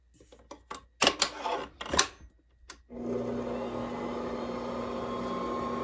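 Kenwood Titanium Major stand mixer kneading fresh-milled bread dough for cinnamon raisin bread, a steady motor whir with a constant hum that starts after a few sharp clatters and knocks and then runs on unbroken.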